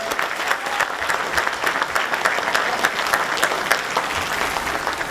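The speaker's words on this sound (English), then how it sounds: "Another round of applause." Steady applause from a crowd at a high school class convocation, many hands clapping continuously at a moderate distance.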